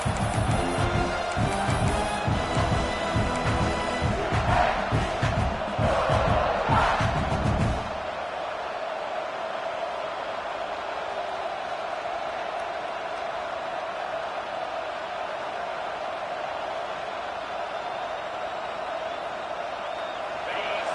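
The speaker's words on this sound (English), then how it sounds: "It's early, but this crowd is fired up. Listen to this noise here." A college football crowd roars in the stadium at South Carolina as the home side hosts Louisville. A loud, dense cheer lasts about eight seconds, then falls to a steady, lower crowd din.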